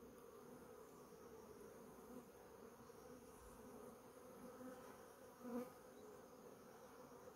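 Honeybees buzzing around a hive split into smaller colonies, a steady, low, continuous hum at moderate distance with one brief louder swell near the end, no talking.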